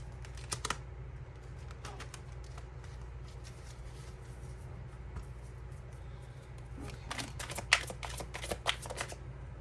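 Tarot cards are shuffled close by with quick papery riffling, a short flurry at the start and a denser run of riffles and taps near the end, over a low steady hum.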